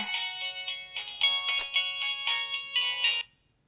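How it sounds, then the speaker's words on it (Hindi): A phone ringtone rings in a quick, repeated electronic melody, clear and fairly close, for about three seconds and then cuts off into silence, with no one talking over it. "तुम्हारा फोन है।"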